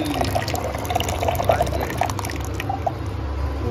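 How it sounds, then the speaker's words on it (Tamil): Hot sugar water pours into a container for making mango juice, a soft continuous splashing trickle with small bubbling droplets, fairly quiet and close. "சக்கரை தண்ணி ஊற்றப்பட்டது"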